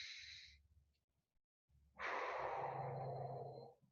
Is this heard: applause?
no